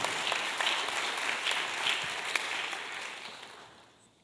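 A crowd applauds, steady clapping that holds for a few seconds and then fades out near the end.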